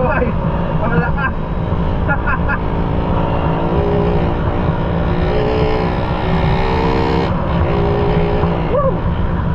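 A Raider 150 motorcycle engine with a modified stock carburetor runs loud and close, holding a steady drone with a rev rise near the end, while someone talks over it.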